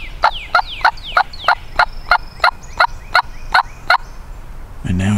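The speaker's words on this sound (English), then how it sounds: "has got a good gobble on him" Wild turkey gobbling in Georgia woods beside a pasture during a hunt, a rapid series of about a dozen sharp, rattling gobble bursts, fairly loud and close, with no talking.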